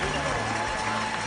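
A steady, dense roar of a stadium crowd applauding and cheering after a record mile race in Paris, continuous and broad, with commentary speech over it.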